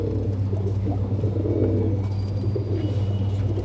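Healthy Andhra pigeons in coops cooing in low, throaty, overlapping murmurs, continuous and close.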